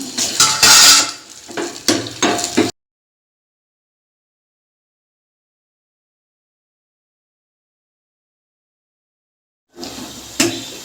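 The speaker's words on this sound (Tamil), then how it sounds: "வெங்காயத்தை போட்டு நல்லா கொஞ்சம் வதக்கிக்கலாம்" Onions stirred in hot oil in a pan for idli-batter bonda, with clattering utensil scrapes and a soft sizzle in two bursts separated by a long silent gap.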